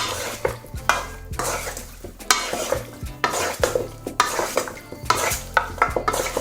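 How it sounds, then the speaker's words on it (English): Chicken wings tossed by hand in a bowl with oil, a close, continuous run of wet squelching and slapping with repeated sharp clacks against the bowl, no talking. "Now using your hands, you want to give this a really good mix."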